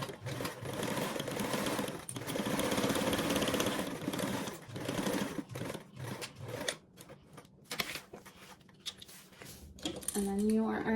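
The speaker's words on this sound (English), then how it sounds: "we are going to go ahead and sew this edge with a 1/4 seam" A sewing machine runs a continuous burst of rapid stitching along a quarter-inch seam, then breaks into short stop-start runs with small clicks and fabric handling. A brief tonal sound closes the passage.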